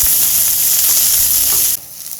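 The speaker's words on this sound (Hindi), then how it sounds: "इतना फ्राई करेंगे कि ये नरम हो जाए थोड़ा सा।" Chopped capsicum and onion frying in a pan, a loud close steady sizzle that cuts off abruptly near the end.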